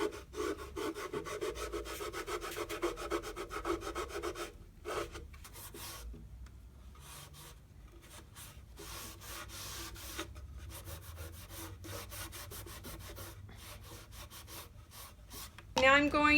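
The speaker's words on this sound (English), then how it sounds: "All I'm going to do is just rub back some of the paint that I put on to reveal the darker finish" A damp rag rubs back paint on a painted wooden telephone table, making a soft, steady scrubbing sound in close, repeated strokes with a short pause partway through.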